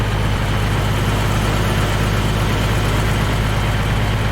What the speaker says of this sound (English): Gotta let that engine start singing.